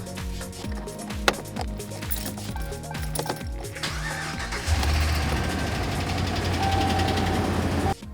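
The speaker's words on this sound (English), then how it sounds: "you can start the truck and let it run" A truck engine cranks and catches about midway, then settles into a steady low idle that keeps running, following earlier knocking and handling noises nearby.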